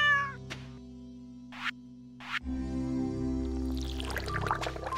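Cartoonish cat meows from Stardew Valley, a few short separate calls standing alone over the game's soft background music and sound effects.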